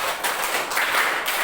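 Classroom of junior high students clapping together in counted patterns, a dense, steady wash of many hands slapping at once, close and fairly loud without pause, no speech.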